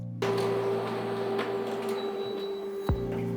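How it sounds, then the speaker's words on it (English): A printer runs a full-color print of a toner transfer foil, starting abruptly with a steady mechanical drone and whirring hum, with a faint high whine partway through and a brief clunk near the end. "send your file to the printer and hit print"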